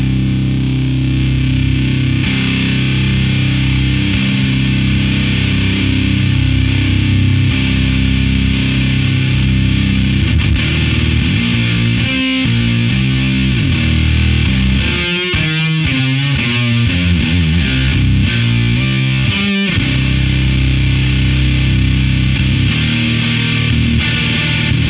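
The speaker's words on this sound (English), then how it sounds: "distortion will be if you take the drive and move it from 8 to 3 o'clock" An electric guitar plays loudly and continuously through a Figure 8 FX Bicep Vaporizer pedal with the drive turned well up, giving thick sustained distortion with strummed chords and a few choppy rhythmic passages, and no talking.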